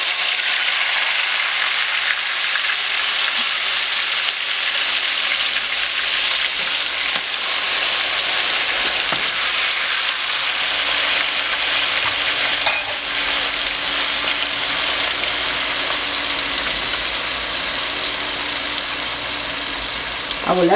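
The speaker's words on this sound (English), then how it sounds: "Now I'm going to transfer my mixed vegetables into my oil" Mixed vegetables frying in hot oil for a cod fish and shrimp gravy, a steady loud sizzle that holds continuously throughout with occasional stirring clinks, with no talk heard.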